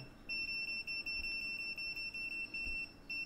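A high-pitched electronic beep repeats in short bursts, broken by brief gaps, from an Aneng 683 touchscreen multimeter's continuity tester sounding nearby, fairly quiet.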